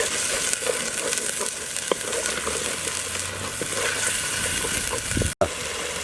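Onions sizzle and fry steadily in a pan after ginger garlic paste is added, a constant crackling hiss for a chicken kulambu curry, with a brief sharp clatter near the end.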